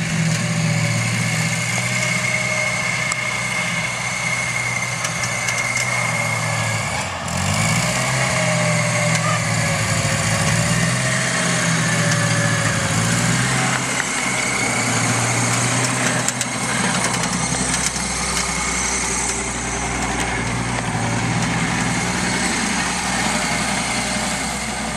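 A tractor engine idles steadily and close by for the whole stretch, a continuous rumbling drone with slight shifts in pitch, no talking.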